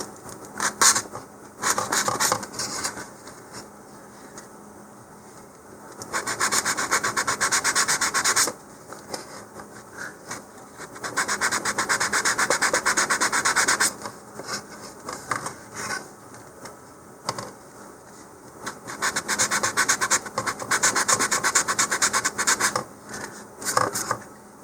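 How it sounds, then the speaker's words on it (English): Sandpaper rubbed by hand on a model rocket body tube where the fins will attach, a steady scratchy rasp in several long bouts separated by brief pauses. "I'm going to just sand a little bit where those fins are going to go."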